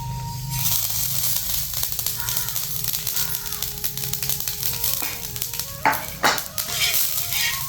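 Niger seeds (karale) roasting in a pan give a continuous dry sizzling crackle with stirring scrapes, close and steady, with a few brief sharper clinks near the end.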